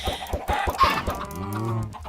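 Several Minecraft chickens cluck in quick, close, overlapping bursts, followed by a longer, drawn-out squawk.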